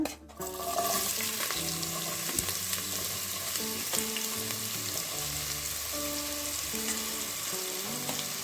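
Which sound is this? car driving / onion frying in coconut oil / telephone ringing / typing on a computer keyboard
onion frying in coconut oil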